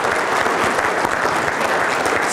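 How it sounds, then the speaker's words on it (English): Loud, dense applause from a convention audience at a Wisconsin lakes keynote, a continuous roar of clapping filling the whole moment without pause. "So applause for Eric for pulling this together."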